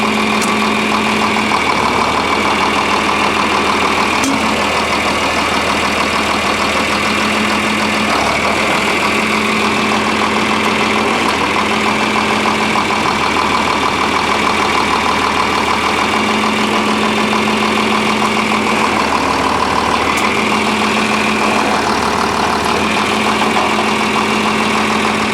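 A John Deere 4020 tractor's diesel engine idles steadily and loudly nearby after a cold start, a continuous rumbling drone with a slight rhythmic unevenness, heard alone without talk.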